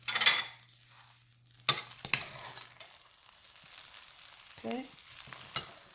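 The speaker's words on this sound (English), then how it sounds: "Stir it up." Rice is stirred in a hot pan over a low burner, with short scraping and clinking strokes between quiet pauses and a faint sizzle. A single brief spoken word comes early.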